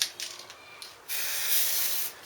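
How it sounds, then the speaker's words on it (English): Basic acrylic aerosol primer sprays in short hissing bursts, then one long steady spray, close and fairly loud with no talking. "It's not 2-pack, it's just a basic acrylic aerosol."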